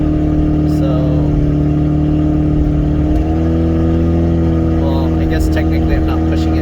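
A 2003 Toyota Prius with its catalytic converter missing climbs a hill. Its engine gives a loud, steady, droning hum that shifts pitch partway through, and a person talks over it.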